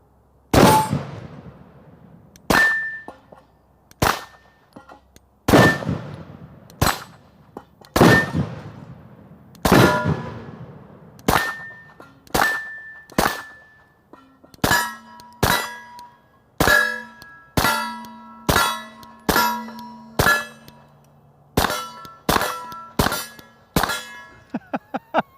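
A Stoeger STR-9S semi-auto pistol firing at steel Firebird targets: a long string of loud, close shots, each followed by a ringing metallic clang, coming in steady bursts with brief pauses and no speech.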